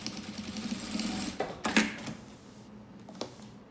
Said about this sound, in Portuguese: E costuro a outra caixinha de leite.